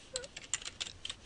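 Quick keystrokes on a computer keyboard as a title is typed, a short run of light, uneven clicks close to the mic with no talking.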